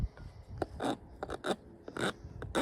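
Deburring the inside of a cut plastic water pipe on fire suppression and irrigation lines, heard as quiet, quick rasping scrapes in short repeated strokes, close and without talk.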